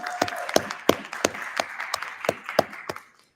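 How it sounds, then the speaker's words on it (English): Audience applause at an afternoon arts gathering, a run of sharp, fairly sparse handclaps at a steady pace that thins out and fades near the end, heard on its own with no talk over it. "So let's give her a round of applause."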